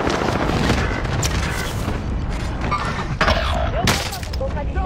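Heavy gunfire and booming blasts rattle through a Warzone match, bursts and thuds layered densely and loudly, mixed with game voice lines and chatter.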